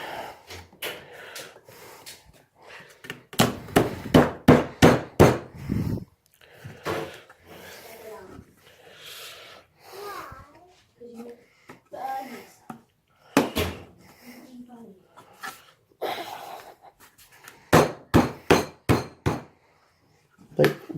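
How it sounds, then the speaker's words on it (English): Sharp hammer blows knock plastic paint-rack parts into place in quick bursts of several strikes each, separated by quieter handling sounds of the TT Combat Vallejo rack being assembled indoors. "I'm always wary of hammering things in place."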